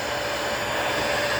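Vacuum suction of an all-in-one dog grooming kit, a steady, close, loud airy motor whir with no break.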